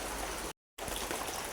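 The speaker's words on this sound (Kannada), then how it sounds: "ಈ ಥರ ಮಳೆ ಆದರೆ ಹೋಗೋದೆಲ್ಲ ಕಷ್ಟ." Steady rain falls on a hillside farm and home, a close, even wash of patter that drops out briefly before resuming.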